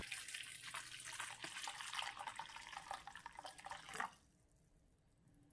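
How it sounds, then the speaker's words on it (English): About 400 ml of boiling water pours steadily into a bowl or cooking pot in a continuous splashing stream for about four seconds, then cuts off abruptly, leaving quiet room tone. "Add roughly 400ml of boiling water in a bowl or a cooking pot."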